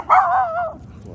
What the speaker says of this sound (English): Who are you barking?